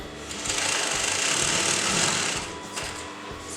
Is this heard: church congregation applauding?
no